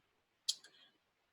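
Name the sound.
computer mouse click on a website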